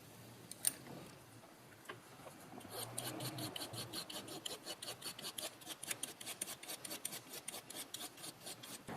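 A small file rasps along the edge of a steel micro carving chisel in quick, even strokes, quiet and close, following a few seconds of near silence and a single sharp tap.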